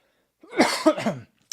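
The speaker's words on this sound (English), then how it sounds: "Sorry about all the coughing today, guys." A single close, raspy coughing fit made of a few rapid bursts running together, loud against a silent background.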